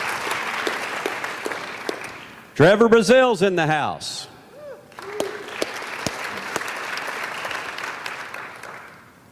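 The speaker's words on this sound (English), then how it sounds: "give Charmaine a round of applause and a welcome back to the rodeo arena" Audience applause and cheering at a rodeo press conference in a rodeo arena, a broad wash of clapping that builds and sustains, with a voice speaking loudly over it partway through.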